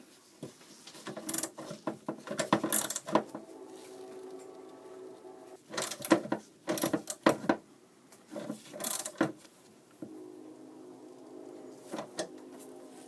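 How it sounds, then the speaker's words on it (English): Screws are tightened on the side brackets of a tilting TV wall mount, with bursts of ratcheting, rattling metal clicks and scraping in irregular clusters, close and moderately loud. "you want to tighten these screws up"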